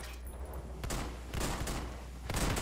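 Gunfire crackles through a first-person shooter firefight during a 3 vs 4 team match, with several broad bursts of shots at moderate loudness over a steady low rumble.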